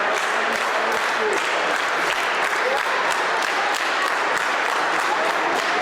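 Wrestling crowd at a 2020 memorial tournament show cheering and clapping steadily throughout, a dense continuous roar of applause with no clear voices on top.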